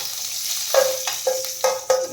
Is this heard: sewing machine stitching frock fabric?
no